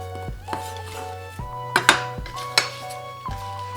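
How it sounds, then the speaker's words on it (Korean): A knife cuts an apple into bite-size pieces on a cutting board, giving a series of crisp, close knocks and chops at an irregular pace over a steady background hum. "사과는 그냥 봄동처럼 한입 크기로 이렇게 나박나박 썰어주시면 돼요"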